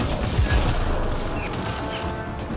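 Rapid bursts of gunfire from Mass Effect: Andromeda rattle loud and close, a continuous dense fusillade with booming low thumps running through the whole stretch.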